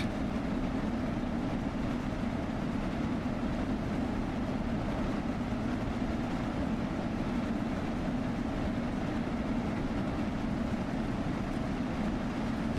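An old steam passenger train in Train Sim World 2 runs near 85 mph as a steady, dense rumbling roar, unbroken and moderately loud throughout.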